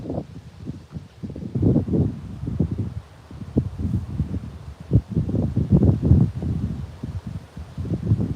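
Wind blowing outdoors beside the water while fishing, strong enough to hamper casting a spinner: steady, low buffeting gusts rumble against the microphone, rising and falling without a break.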